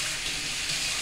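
Warm water runs steadily from a tap over a paint brush, a continuous close hiss of flowing water.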